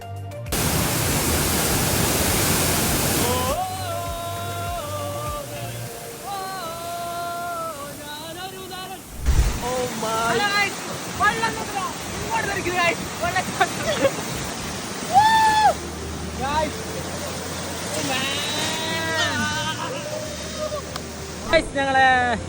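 Broadband roar of the Paika waterfall in Kasaragod in rain, steady and loud at first, then continuing beneath people talking and calling out nearby.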